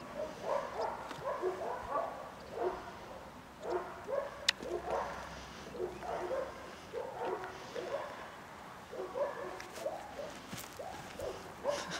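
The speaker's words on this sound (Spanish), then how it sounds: "Qué perro más peligroso." A small dog yips and barks in short, repeated bursts of high, bright calls at a moderate distance, with faint background noise between the barks.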